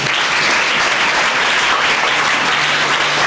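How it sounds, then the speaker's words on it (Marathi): A dense crowd gives loud, continuous applause at a school celebration for Gandhi and Shastri Jayanti, with steady clapping throughout and a faint voice under it. "त्यासाठी सगळ्यांच्या एका टाळ्या होत्या."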